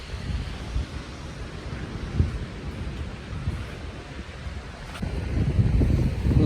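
Wind gusts steadily across an open seashore at Kovalam beach in Kerala, a broad, rumbling roar on the microphone that swells toward the end, with faint surf beneath.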